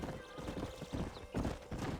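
Horse hooves clip-clop at a steady trot in the video game Red Dead Redemption, a rhythmic stream of hoof beats with a brief whinny-like sound mixed in.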